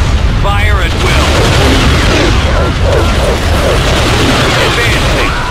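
Blaster gunfire in a Star Wars video game, rapid bursts of shots and booms crowding together loudly throughout, with voices in the game mixed in.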